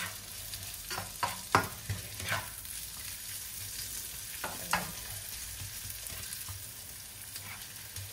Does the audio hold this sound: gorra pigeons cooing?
no